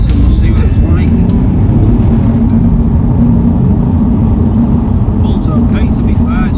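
A 1.5-litre MINI John Cooper Works drives off with a steady, low engine drone and road rumble heard from inside the cabin. The sound holds evenly throughout, with no talking.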